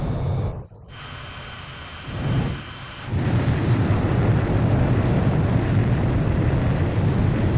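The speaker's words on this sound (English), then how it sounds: "Crews, you are cleared for takeoff." Fighter jets taking off in Ace Combat 5, a brief engine swell giving way to a loud, steady roar of jet engines that fills the rest of the moment after a short dip.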